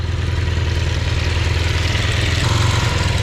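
A slightly smoking motorcycle engine idles close by with a steady low, lumpy rumble throughout, no speech.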